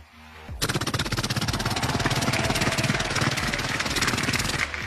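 A voice imitates a helicopter arriving at a political rally for the Prime Minister, a loud, steady rapid rotor chop that starts abruptly and continues without a break, with no words spoken.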